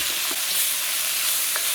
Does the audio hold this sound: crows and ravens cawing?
no